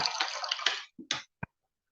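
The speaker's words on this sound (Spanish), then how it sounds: "tomar un vasito de agua." A small glass of water is drunk during a pause in a lecture: a short burst of close watery sloshing and gulping, then two brief soft bumps and a sharp tap as the glass is set down, with no talking.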